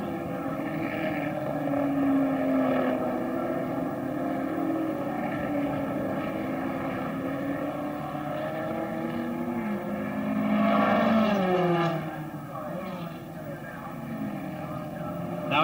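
1963 Formula One race cars on the Australian Grand Prix circuit, a droning engine note rising and falling as cars pass, under steady commentary.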